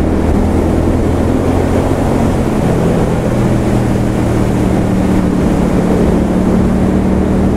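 A 2016 Triumph Street Twin ride-by-wire motorcycle engine pulls steadily under acceleration in fourth gear, with a loud continuous drone and wind rush throughout and no pauses.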